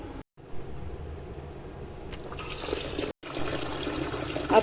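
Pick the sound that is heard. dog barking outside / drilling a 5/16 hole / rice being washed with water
rice being washed with water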